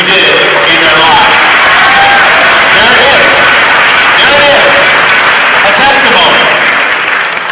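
A large audience at a school district convocation breaks into loud, sustained applause mixed with cheers and whoops. It fills the whole stretch close and strong.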